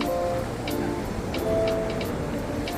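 Sea waves washing onto a beach covered in poisonous blue bottles, with seagulls around, a continuous rushing surf wash under light wind, with occasional faint ticks and clicks, steady and moderately loud.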